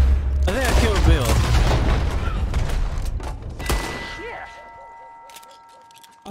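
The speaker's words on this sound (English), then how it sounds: "I shot Bill right through the damn chest" Gunfire in the video game Red Dead Redemption 2, a loud burst of shots and clanging impacts mixed with people talking, then a sharp report followed by fading ringing tones.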